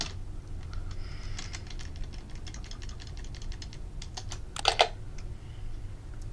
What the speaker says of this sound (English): I type, for example, Gun Games Sega Model